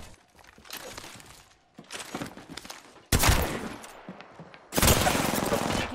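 Bursts of rapid video game gunfire in a sci-fi shooter, with two long, loud volleys after a few shorter, quieter stretches of firing and a brief pause.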